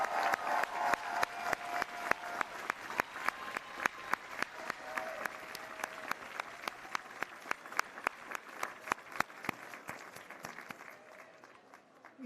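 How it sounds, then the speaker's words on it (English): Large commencement audience applauding the graduating class of 2023, a sustained wash of many hands clapping that gradually thins and fades toward the end. "give a loud applause for the graduating class of"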